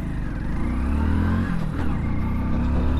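A Hero Splendor BS6 motorcycle pulls hard through its gears on a top speed run, the engine's steady droning growl rising in pitch with a brief shift dip midway, loud and close with wind rush.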